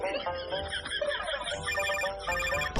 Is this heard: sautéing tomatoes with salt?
no